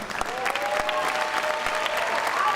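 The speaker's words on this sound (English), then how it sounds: "So let's give a round of applause, not to me, but to the amazing musicians" Audience applause at a school veterans concert with student musicians on stage: sustained clapping from a crowded hall, with a faint steady tone hanging beneath the claps.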